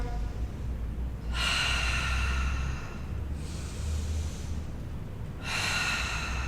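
Strong breaths during a Pilates exercise for runners: a long rushing exhale, a shorter breath, then another exhale, close up over low background rumble with no speech.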